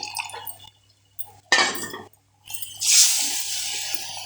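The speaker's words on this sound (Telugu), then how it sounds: "ఇప్పుడైతే చారు పోసుకోవాలండి. ఇక చింతపులుసు అండి ఇది." Tamarind extract is poured into a fish curry, a short close splash of liquid followed by a longer wet pour with faint clinks of a vessel, set against a quiet room hum.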